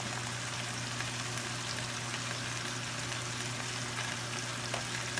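Flour cooking into melted butter for a roux for chicken pot pie gives a soft, steady sizzle with faint crackles under a low background hum, no one speaking.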